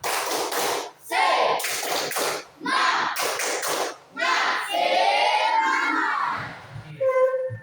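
A classroom of students performs a spirited rhythmic clap during an English lesson icebreaker, with loud patterned bursts of clapping and group chanting voices close by.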